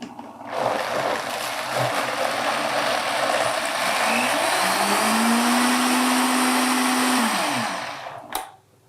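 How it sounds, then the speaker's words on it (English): A blender purées greens with their stems into a smooth mix, roaring loudly and steadily for about seven seconds before winding down, then a sharp click as it stops. "we're just gonna turn this on, blend it till it's smooth"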